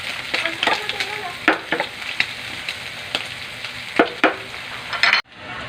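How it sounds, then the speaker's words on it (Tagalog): Garlic, onion and red chili sautéing in a pan, a loud close sizzle punctuated by repeated sharp spatula clanks and scrapes in an irregular rhythm, ending abruptly. "Lagay na natin yung ating bawang sibuyas kasama ng siling red."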